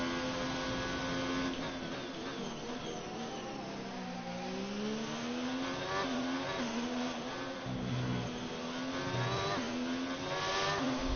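Formula race car engine in a racing game, a steady high whining roar rising and falling in pitch through gear changes and corners, loud and continuous without pause.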